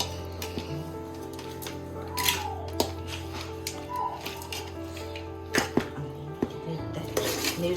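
Turmeric powder being mixed into pulihora rice in a vessel on a train journey, with scattered metallic scrapes and clinks of a spoon against the pot over a constant rumbling hum.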